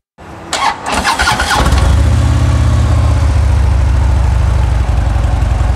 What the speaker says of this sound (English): Let's fire it up, listen to the stock exhaust system.